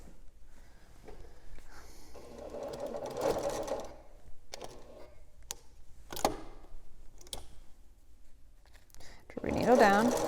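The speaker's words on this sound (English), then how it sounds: "I'm going to sew from here to here" A sewing machine stitches binding onto a quilt in short bursts of rapid mechanical whirring, separated by clicks and pauses, with a person talking quietly throughout.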